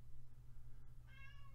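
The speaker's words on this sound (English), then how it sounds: "excuse my cat." A pet cat lets out a single short meow near the end, fairly close but soft, over a steady low hum in an otherwise quiet room.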